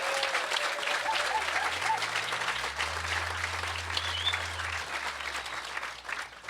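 Audience applause fills a political speech at an outdoor festival gathering, sustained dense clapping from a large crowd that holds steady throughout before easing slightly at the end.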